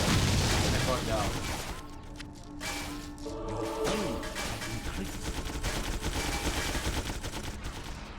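Video game gunfire in Torchlight rattles in dense, rapid bursts with booming impacts through most of the stretch, a loud continuous barrage with a voice talking over it.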